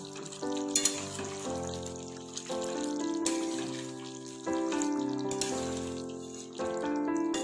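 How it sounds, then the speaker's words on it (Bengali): Chicken curry stirred in a pan, a continuous bubbling sizzle with periodic scraping strokes and a strong tonal hum running underneath, close and steady, with no voices. "ভালো করে চিকেনটা একবার নেড়ে দেবো।"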